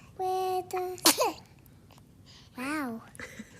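A baby gives a short, sharp sneeze, close by and fairly loud, between bouts of high-pitched infant babbling and cooing.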